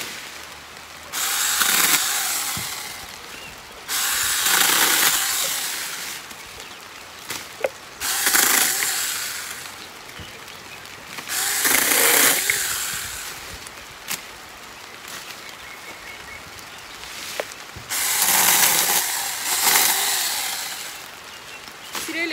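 A battery-powered saw cutting wood outdoors in the rain, running in about five loud, whining bursts of a few seconds each, separated by quieter pauses filled with background patter.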